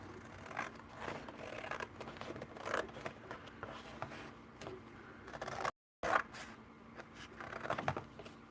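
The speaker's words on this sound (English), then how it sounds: "You're going to want to cut off everything you're not going to use." Scissors cutting paper for an antiqued junk journal cover, a series of close crisp snips and rustling scrapes at an uneven pace, with a brief dropout partway through.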